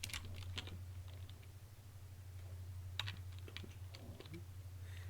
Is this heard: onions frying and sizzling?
no